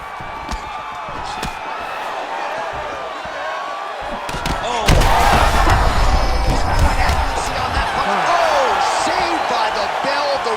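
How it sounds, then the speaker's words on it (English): Crowd noise from a PS5 UFC fight, a steady roar of spectators that swells and surges as heavy strikes land, with sharp slapping impacts scattered throughout and a louder burst midway. "Crowd continues to sway with every huge shot being landed."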